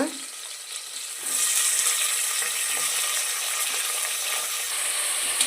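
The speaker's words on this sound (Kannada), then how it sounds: "ಈರುಳ್ಳಿನ ಹ್ಯಾಡ್ ಮಾಡಿದಾದ್ಮೇಲೆ ಇದು ಗೋಲ್ಡ್ ಕಲರ್ ಬರೋವರೆಗೂ ಸ್ವಲ್ಪ ಫ್ರೈ ಮಾಡ್ಕೊಳ್ಳೋಣ" Onions fry in a pan with a steady, close sizzle that swells louder after a quieter start and keeps crackling with faint stirring.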